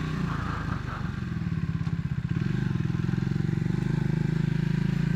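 A Triumph Scrambler 400x single-cylinder 400 cc engine pulls steadily uphill, its pulsing exhaust thrum loud and close with a slight lift in pitch partway through, plus some wind and rattle.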